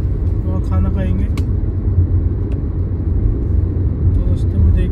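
Car cruising at about 80 km/h on an open highway, a steady low road and engine rumble with tire noise from inside the cabin, while someone talks briefly over it near the start.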